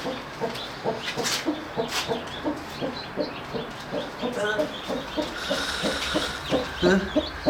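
A hen clucks repeatedly in short, steady bursts close by, with soft rustling and faint chirps in the background.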